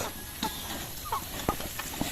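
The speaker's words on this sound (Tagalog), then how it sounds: "Sinasamahan din sila ng mga manok." Chickens on a pig farm, kept among pigs being fed Madre de Agua leaves, give a few short, faint clucks scattered across a quiet background.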